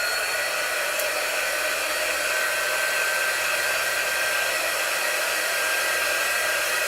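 A hair dryer blows steadily on a resin craft piece, a loud continuous close-up whir with a high whine that holds without a break.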